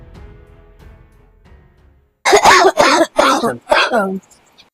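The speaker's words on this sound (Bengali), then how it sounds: "আবার কাশিটা বন্ধ হচ্ছে না" A run of four harsh, close coughs bursts out loudly one after another following a quiet stretch of faint background sound.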